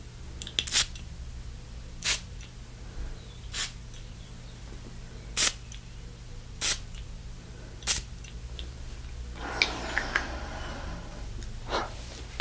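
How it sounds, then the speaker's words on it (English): Sharp short sprays of aftershave from a glass bottle hiss out one at a time, about six bursts spaced roughly a second apart, followed by a brief rustling sound over a low hum. "I'm going to spray some for you."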